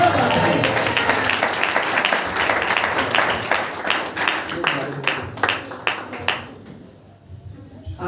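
Enthusiastic applause from a church congregation welcoming a guest, loud sustained clapping that thins into scattered individual claps near the end, with voices mixed in.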